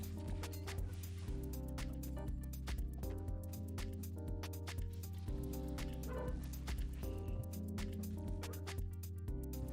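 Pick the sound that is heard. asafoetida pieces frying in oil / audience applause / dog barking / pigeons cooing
dog barking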